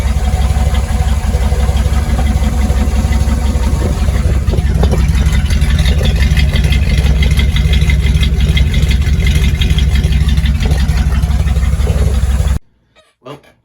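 A 1985 Dodge D150 pickup truck engine idles steadily and loudly up close, a continuous low rumble that runs throughout before cutting off abruptly near the end.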